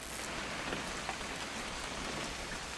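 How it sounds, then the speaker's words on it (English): Steady rain falls in the video game What Remains of Edith Finch, a dense, even hiss of drops on surfaces that holds at the same level throughout, with no voices. "It's gonna rain the whole weekend, isn't it?"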